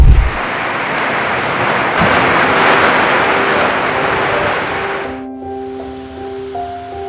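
Unseasonal rain pours as a dense, steady hiss for about five seconds before cutting off abruptly, after which soft sustained musical tones take over.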